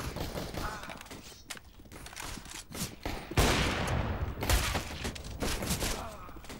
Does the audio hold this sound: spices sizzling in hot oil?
no